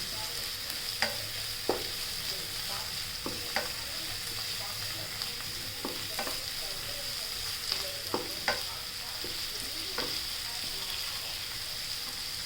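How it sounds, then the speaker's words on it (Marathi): Green chillies sautéing in a pan for a dry potato and spinach dish: a steady sizzle with intermittent scraping stirs every second or two, close and moderately loud, with no talking. "हिरवी मिरची, परतून घेणे."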